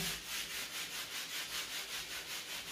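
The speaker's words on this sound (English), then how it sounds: "That's also why I can rub it with this and the paint won't come off." A high-gloss painted kitchen wall being rubbed with a cleaning pad, a steady back-and-forth scrubbing of about a dozen even strokes, close and fairly quiet with no talking.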